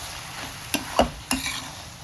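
Tomato chutney with salt being stirred in a pan, a soft sizzle beneath three sharp spoon knocks and scrapes against the metal, close and without talk.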